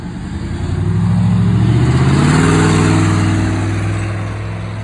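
2004 Ford Crown Victoria with a cut exhaust driving on a back road, its loud raspy V8 drone rising as it accelerates, then easing off toward the end, close and without talk.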